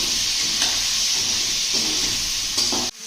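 Chopped tomatoes and ground spices sauté in a hot pan with salt, giving a steady loud sizzling hiss broken by a few scraping stirs, close by, before the frying noise drops off abruptly near the end.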